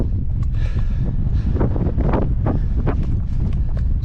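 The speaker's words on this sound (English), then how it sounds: "There's the wind now, not the time for talking." Strong wind blowing across a mountain pass in Wales, loud and gusty with heavy buffeting on the microphone throughout, no speech.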